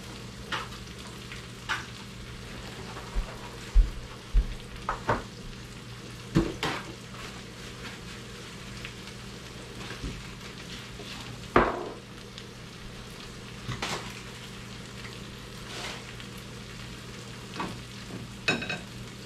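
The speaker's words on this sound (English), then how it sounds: "eggs are frying up." Eggs frying in a pan for breakfast burritos: a soft, steady sizzle with intermittent sharp clicks and scrapes of a utensil against the pan, fairly quiet and without talk.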